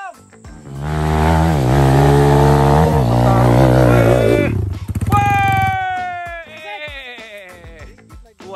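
A KTM EXC 300 TPI two-stroke dirt bike on an off-road trail ride: the engine revs loud and close, holding high and wavering for several seconds, then drops and climbs again through a series of quick, sharp throttle bursts.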